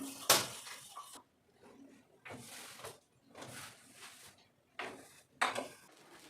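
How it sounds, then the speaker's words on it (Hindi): Dishes, pots and utensils being washed in a home kitchen, with separate bursts of clattering, scraping and splashing broken by short quiet gaps, close and moderately loud, with no talking. "तो बस अभी बर्तन साफ़ करूँगी।"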